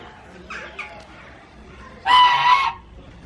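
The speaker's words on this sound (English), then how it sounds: "These are Chinese geese." Chinese geese on a farm give a few faint calls, then one loud, close honking burst, with quiet gaps between them.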